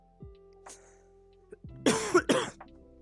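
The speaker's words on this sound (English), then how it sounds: "I hope you enjoyed my cough into the mic." A couple of sharp, close coughs right into a microphone, following a few quiet clicks and faint background hum.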